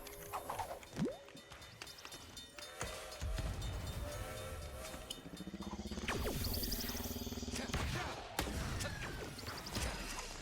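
Train rushing past in the video game Knockout City, a loud rumbling pass that builds mid-clip and fades, layered over busy game effects and music.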